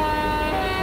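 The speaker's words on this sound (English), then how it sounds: "It's a train horn" A steady, loud multi-tone horn blast from a train in Train Simulator 2013 sounds continuously for the whole brief moment, sustained and harmonically rich.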